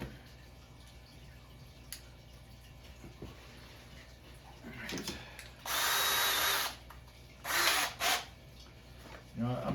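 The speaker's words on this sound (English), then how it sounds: "Let me go get the drill here and we'll drill a hole." After some quiet handling noises, a power drill whirs in two short bursts drilling a hole in wood, loud and close, then briefly starts again at the end.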